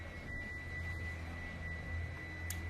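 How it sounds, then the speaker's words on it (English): Steady low drone of a vacuum cleaner running elsewhere in a New York apartment building, continuous and muffled through the walls, with a faint high whine over it and no voices. "That is the vacuum cleaner in my building."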